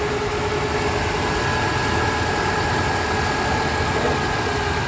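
A 1995 Toyota Starlet engine idles smoothly and steadily at close range, a constant low hum with a faint whine running through it for the whole stretch, no voices.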